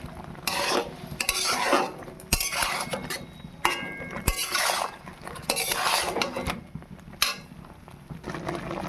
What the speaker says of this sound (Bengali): এবার আমি ভালো করে একটু নেড়ে নেব।